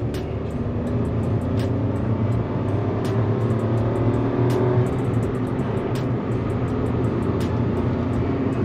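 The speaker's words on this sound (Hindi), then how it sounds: "सबसे पहले मैं आपको रेव करके दिखाता हूँ अंदर नॉइस आ रहा है कि नहीं।" The 1-litre engine of a 2022 Maruti Celerio hums loudly and steadily inside the cabin as it is revved, a continuous drone with light rattles and ticks and no talk.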